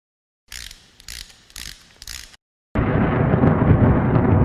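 A plastic sorting and recycling machine starts up: four short bursts of mechanical ratcheting and gear clatter with gaps, a moment of silence, then a loud continuous rumbling drone of the machine running, close by.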